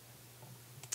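A computer mouse gives two faint, quick clicks near the end of a quiet second of work in Maya 3D modelling software.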